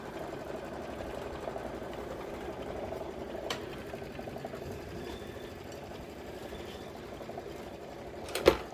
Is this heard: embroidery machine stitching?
yes